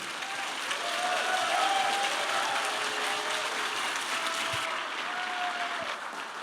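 A studio audience keeps clapping for the panel of guests on stage, sustained dense applause at even loudness with faint voices beneath, tapering slightly near the end.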